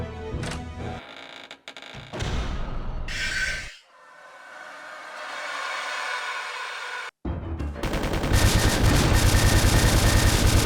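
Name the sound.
machine gun fire in the video game Resident Evil Survivor 2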